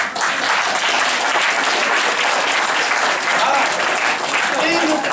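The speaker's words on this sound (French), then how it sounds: "12 ans, on l'applaudit." An audience at an evening show applauds a twelve-year-old, with thick, even clapping from a large crowd lasting the whole few seconds without a break.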